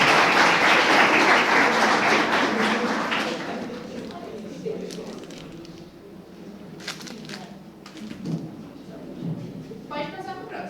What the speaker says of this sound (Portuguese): Palmas para a tia Lilian.